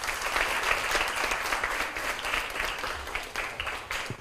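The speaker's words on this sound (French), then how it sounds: "Applaudissez s'il vous plaît." Audience applause at a school quiz competition, steady dense clapping from a crowd that holds throughout without letting up.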